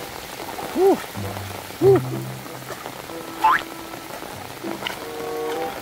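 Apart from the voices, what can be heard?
heavy rain falling on water while fishing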